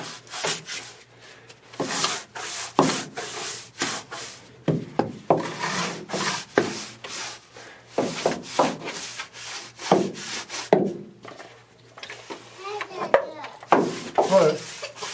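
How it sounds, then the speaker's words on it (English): A brush rubs and scrubs moisture across a wood surface with a mold killer, giving repeated rough strokes in a steady rhythm, close and fairly loud, with no talking. "then I'm going to take the brush and kind of rub it around, distribute that moisture"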